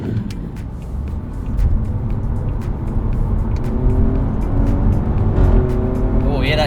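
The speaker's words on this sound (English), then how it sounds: "that exhaust fart then" An Alfa Romeo Giulia Quadrifoglio's exhaust fires off a rapid string of sharp pops and crackles over a steady engine and road drone, heard from inside the cabin.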